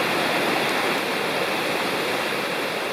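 North Fork of Citico Creek in Cherokee National Forest rushing over rocks, a steady, dense roar of flowing water heard close and alone, unbroken throughout.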